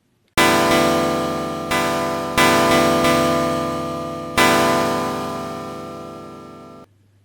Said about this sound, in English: And all together, they sound like this.